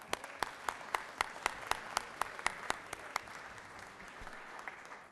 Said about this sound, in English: please give a big round of applause to Roswell Area Parks winning the Gold Award